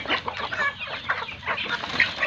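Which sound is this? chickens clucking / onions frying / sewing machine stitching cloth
chickens clucking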